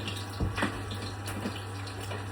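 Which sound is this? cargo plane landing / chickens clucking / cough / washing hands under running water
washing hands under running water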